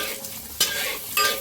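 Paneer cubes fry in ghee in a clay pan, giving a steady close sizzle broken by two sharp scrapes of a utensil stirring.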